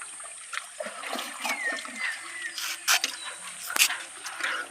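Fish being released into a pond, with several irregular splashes and water slaps at close range, one louder splash near the end and faint voices in the background.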